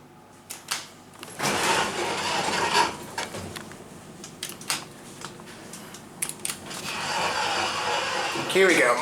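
A Dover hydraulic elevator, modernized by Long, runs its motor in a shopping-centre machine area. Irregular mechanical clunks and rattles turn into a sustained whirring hum near the end, with brief voices nearby.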